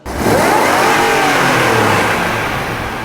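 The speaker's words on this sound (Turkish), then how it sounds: "Gerçekten yani insanı rahatsız eden bir motor sesi var ya." A Range Rover's V8 engine revs hard and holds a loud, rising roar for a few seconds, close by, with no voices.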